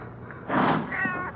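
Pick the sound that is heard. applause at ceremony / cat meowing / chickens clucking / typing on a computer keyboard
cat meowing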